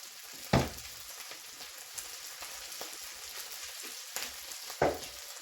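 Extra virgin olive oil hitting a hot frying pan with tofu, giving a soft steady sizzle with two sharper crackling bursts near the start and end, close and alone with no talk.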